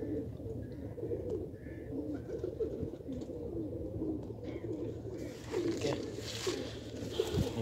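Pigeons coo softly and repeatedly over a steady low murmur of ambient noise, fairly distant and muffled.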